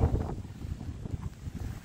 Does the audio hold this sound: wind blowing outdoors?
yes